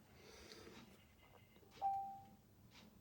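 A doorbell gives one brief, thin electronic tone, clear but fairly faint, in an otherwise quiet room during model building, with no speech.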